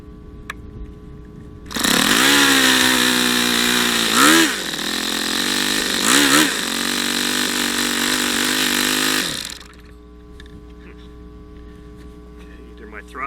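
Yamaha FZ63 motorcycle engine starting for the first time, roaring loudly and steadily for about eight seconds with a couple of throttle blips before cutting off.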